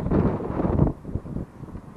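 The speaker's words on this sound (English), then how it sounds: "It's a little bit windy." Wind gusts across open grassy downs at Durham Downs, buffeting the microphone with a loud rumbling roar that eases after about a second into lighter, uneven gusts.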